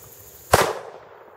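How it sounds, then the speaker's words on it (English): A single sharp, loud shot from a Ruger .357 Magnum revolver fired at a target outdoors, with a short decaying echo afterward. "We'll just continue shooting out that way."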